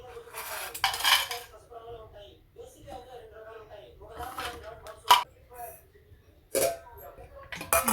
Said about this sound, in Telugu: నేనైతే నా క్యారేజ్ కట్టుకుంటున్నాను ఇక్కడ